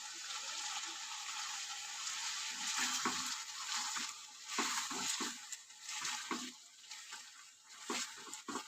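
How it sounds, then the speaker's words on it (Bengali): Potatoes and jackfruit sautéing in hot oil in a pan, a close sizzle with frequent scraping and stirring knocks from a spatula, rising and falling in intensity. "এখন আমি আলু আর এঁচোড়টা দিয়ে দেবো। এটা দিয়েও বেশ সুন্দর করে কষিয়ে নেব।"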